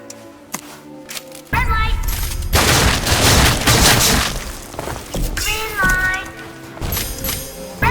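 Gunfire fills the Roblox Squid Game scene in a rapid fusillade of shots with loud bursts and crashes, intermittent at first, then sustained, while a player's voice talks over the action.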